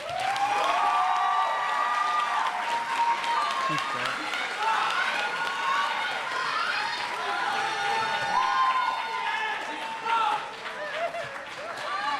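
An audience at a 2017 kente stole graduation ceremony applauds the graduates, with a steady mass of clapping and some cheering running under and around a voice talking over it.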